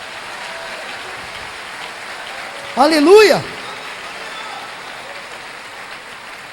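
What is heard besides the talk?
church congregation applauding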